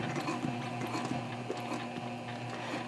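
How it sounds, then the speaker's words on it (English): A sewing machine stitches across the side of a Swoon Frankie handbag tote, giving a steady, fairly quiet mechanical whirr with a fast rattling rhythm throughout, with no talking. "And now I'm going to sew across the side."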